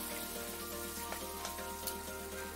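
Cooked mutton pieces with drumstick vegetable curry bubble and crackle softly in a pan, a faint, steady sizzle with a few light taps of mixing and a constant low hum behind.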